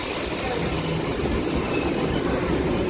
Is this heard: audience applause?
no